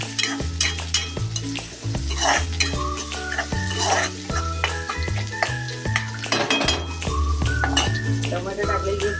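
Onions frying and being stirred in a pan for a drumstick (moringa pod) vegetable dish, browning to a reddish colour; a steady sizzle with spoon scrapes, partly masked by continuous background music.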